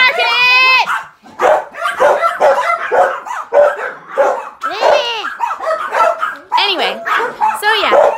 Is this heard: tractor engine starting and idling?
no